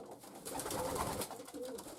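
Racing pigeons in a loft coo softly, a close, continuous murmur of low burbling calls with no speech.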